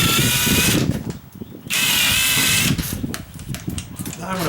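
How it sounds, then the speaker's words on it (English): Power drill widening a hole in plywood for the screws of an exterior wall sconce, loud whirring in two bursts separated by a short pause, with a brief stuttering run at the end. "I'm going to drill the hole just a little bit bigger first"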